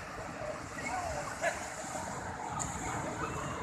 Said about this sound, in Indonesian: Ada bendera merah, ombaknya gede banget.